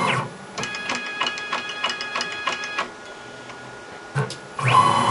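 A machine turret rotating quickly, heard as rapid rhythmic mechanical clicks and whirring in short bursts, close by with a brief louder whir near the end and no talking.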